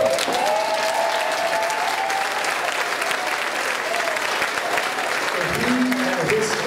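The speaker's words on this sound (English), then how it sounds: "I need to ask you to give a special round of applause to Dr. Connor." A church audience breaks into dense, sustained applause, loud and close, the clapping steady throughout, with a few voices calling out briefly over it.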